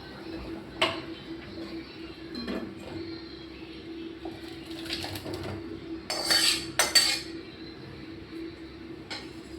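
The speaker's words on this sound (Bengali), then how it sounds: "তরকারিটা আমার হয়ে গেছে, আমি এবার ঢেলে দেব" Cooked vegetable curry is poured out of a cooking pan, heard as a few close metallic clinks and scrapes of pan against dish, with a louder cluster of scraping near the end over a quiet kitchen background.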